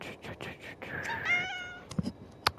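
A cat meows in a Minecraft survival game, a short drawn-out mew standing out among soft game clicks and item sounds, followed by a few sharp taps.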